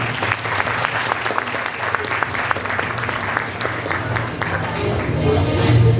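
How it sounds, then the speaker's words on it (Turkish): Audience applauding a school competition winner, dense sustained clapping from a crowd indoors, steady throughout and swelling slightly at the end. "Alkışlarınızla Amine Azrafoğlu'na."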